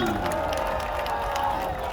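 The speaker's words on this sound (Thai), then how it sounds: "ขอเสียงปรบมืออีกครั้งนึงครับพี่น้อง" Crowd at a Thai rocket festival (Bun Bang Fai), applauding and cheering in a dense, steady wash of noise with scattered shouts, continuous for two seconds.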